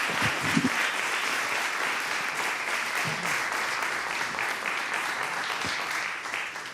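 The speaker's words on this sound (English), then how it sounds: "Reverend Jesse Jackson, you all by applause signify your support for this man coming up here" Sustained audience applause at a 2016 RIOTcon call-to-action and benediction event, steady dense clapping throughout for a speaker being called up, with a few faint low voices underneath.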